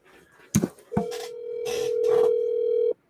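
Phone handset clatter followed by a steady, continuous dial tone lasting about two seconds, close and loud, with faint background voices.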